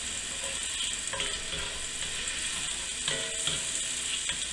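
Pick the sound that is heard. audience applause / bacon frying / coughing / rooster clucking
bacon frying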